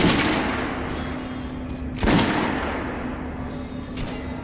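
Guns fire at a shooting range in Metro Last Light Redux, with a few loud, echoing shots spaced about two seconds apart over a steady background hum.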